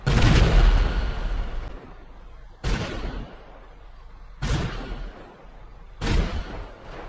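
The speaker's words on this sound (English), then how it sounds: "Now the railgun cannon," Khanjali tank railgun cannon in GTA Online fired without charging, four loud booming shots spaced about two seconds apart, each a sharp blast with a decaying rumble tail.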